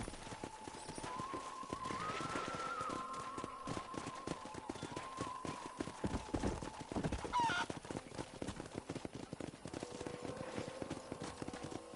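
Steady clip-clop of galloping horses' hooves runs throughout, close and busy, with a faint high tone and scattered animal calls mixed in, in the video game Red Dead Redemption.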